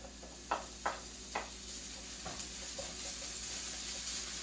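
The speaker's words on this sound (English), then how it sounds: "We're gonna go ahead and add our garlic and ginger mixture." A minced garlic and ginger mixture goes into hot oil with onions for chicken tikka masala. Three quick stirring scrapes are followed by a steady, soft sizzle that keeps crackling gently.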